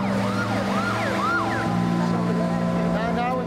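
An ambulance siren wails in rising and falling sweeps, loud and close, over a steady engine drone at a youth refuge on a city street; the siren cuts off partway and a low hum continues.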